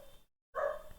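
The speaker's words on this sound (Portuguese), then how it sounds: "é só eu começar a falar pro cachorro latir" A dog gives a short burst of barking after a moment of silence, fairly close and clear, with no talking over it.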